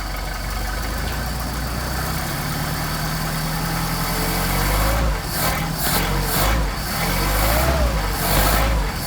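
Engine fitted with Solex carburetors idling steadily while warming up after a cold start, a continuous close rumble with slight surges in revs toward the end.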